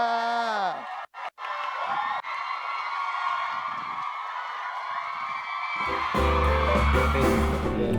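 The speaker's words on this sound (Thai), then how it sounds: "ปรบมืออย่าหยุดและกรี๊ดสนั่น" A large audience cheers and screams loudly and continuously at a live Thai stage show, with high shrill voices throughout and music coming in near the end.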